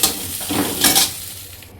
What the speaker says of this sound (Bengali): এখন পেঁয়াজ টমাটো সব কিছু এগুলো ভেজে নেবে, মরিচ রসুন